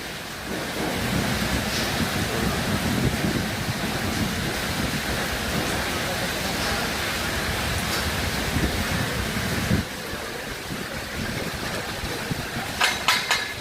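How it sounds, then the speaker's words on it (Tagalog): Steady, dense roar of heavy rain pouring down at a work site, heard from shelter underneath, constant and loud throughout, with a few sharper patters near the end. "Napakalakas idol ng ulan, kaya bumaba dito sa ilalim."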